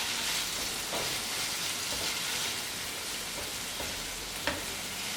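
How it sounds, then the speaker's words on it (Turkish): Steady, crackling sizzle of peppers and sliced sucuk sausage frying in a hot pan, with a few soft clinks of stirring and no voices. "Beraber çok az kavurduktan sonra doğradığım sucukları ilave edeceğim."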